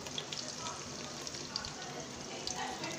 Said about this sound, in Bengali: পেঁয়াজটাকে একটু ভেজে নিতে হবে